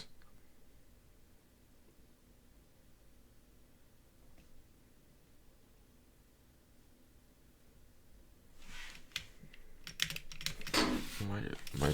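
Computer keyboard typing during operating system development work, faint at first and then a burst of loud, rapid, close clicking keystrokes toward the end.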